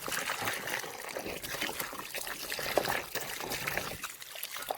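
Freshly dug garden potatoes being washed by hand in water, a steady close trickling and sloshing with faint splashes throughout, no talk over it.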